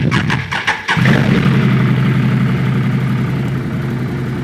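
A farm vehicle's engine cranks with a few quick starter turns, catches and settles into a loud, steady, rumbling idle close by.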